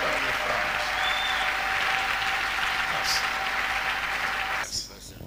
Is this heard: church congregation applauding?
yes